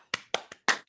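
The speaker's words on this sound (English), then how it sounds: "You deserve a round of applause" Four sharp separate hand claps at a team training session, quiet and spaced unevenly within under a second, with silence between them.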